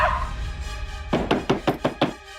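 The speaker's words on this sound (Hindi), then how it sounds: "मनीषा, अरे दरवाजा खोलो" Knocking on a door in a Hindi TV drama scene: a run of six sharp, evenly spaced raps, close and loud, with no talk over them.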